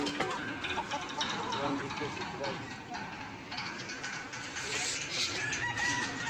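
Village chickens cluck around the spot where a hen laid an egg, scattered clucks and a rooster call mixed under people talking nearby.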